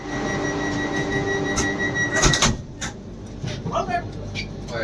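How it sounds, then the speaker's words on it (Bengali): A Vande Bharat Express, NJP to Howrah, pulls out of Malda station, heard from inside the coach as a steady rumble and hum with a sharp clunk partway through, while people talk nearby. "ট্রেন ছেড়ে দিয়েছে মালদা স্টেশন।"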